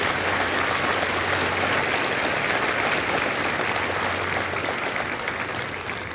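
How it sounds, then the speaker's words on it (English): A crowd at a Marine Corps recruit graduation at MCRD San Diego claps for the families. The applause is dense and sustained, filling the whole stretch at even loudness and easing slightly at the end. "Please give a round of applause to the families of Lima Company."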